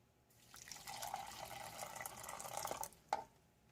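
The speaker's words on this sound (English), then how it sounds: "we'll add some water to our beef broth here" Water is poured into beef broth from a 2007 Dutch 24-hour combat ration, a faint, steady splashing stream lasting a few seconds that ends with a small drip.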